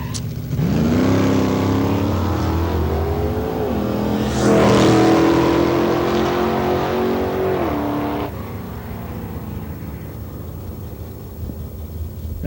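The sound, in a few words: 1952 Chevrolet Bel Air 350 drag race car accelerating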